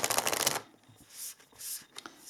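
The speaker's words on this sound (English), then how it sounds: "Going to shuffle a little bit before we pull a card here." Tarot cards are shuffled in a rapid riffling burst, followed by softer sliding and tapping of the deck, close and quiet.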